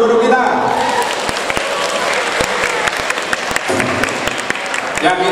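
A crowd of teachers, staff and Class XII students at an Indonesian high school claps in warm, sustained applause, with a voice talking over it.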